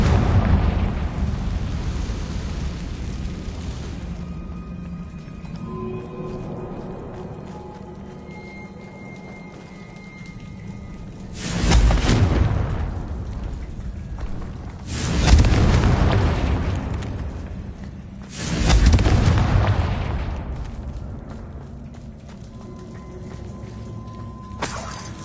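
Fire-spell explosions in the Hogwarts Legacy video game: three loud, deep booming blasts a few seconds apart, each swelling and fading over a low ambient background, with no talking.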